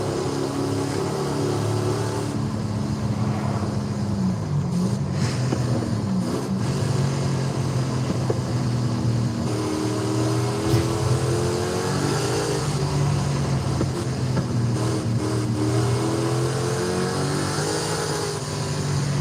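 A car engine in Forza Horizon 5 hums and revs through a relaxed night cruise, its tone climbing and falling steadily with no talking over it.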